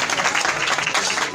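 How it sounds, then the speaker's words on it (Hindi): Audience applause at a Christmas party celebration, a dense burst of clapping that is loud and continuous for a brief moment. "भरपूर तालियां कामरान भाई के लिए जी"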